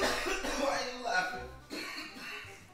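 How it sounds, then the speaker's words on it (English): A man coughs in several rough, close bursts after tasting salmon, with a bit of throat clearing mixed in. "why are you coughing like that?"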